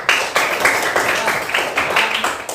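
A classroom of students claps in applause for a classmate who answered well, a dense burst of many hands lasting a couple of seconds with rhythmic peaks, close and fairly loud.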